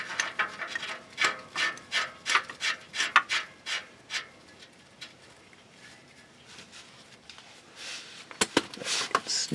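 A new oxygen sensor is threaded by hand into a Honda Civic exhaust, giving a quiet series of short metallic scraping rubs in a quick rhythm, a pause, then a few more close clicks and scrapes.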